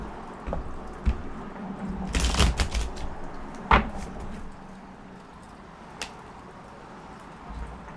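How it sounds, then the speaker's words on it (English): Tarot cards are shuffled quietly nearby, with a brief riffling burst and scattered soft taps and slides against a hushed background. "let's shuffle again"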